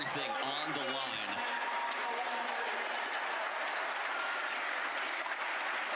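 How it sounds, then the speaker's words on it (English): An indoor pickleball championship crowd breaks into sustained applause. A voice talks briefly at the start, then steady, dense clapping fills the rest of the stretch. "Applause from the crowd. They're loving the effort they're seeing here."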